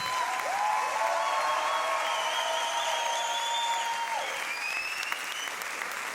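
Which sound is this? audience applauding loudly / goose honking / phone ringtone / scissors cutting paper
audience applauding loudly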